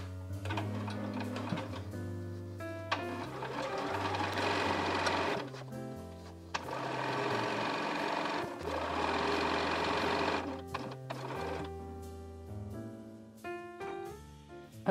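Sewing machine hemming linen shawls, running in steady rhythmic stitching bursts with short pauses between, close and clear with no talk.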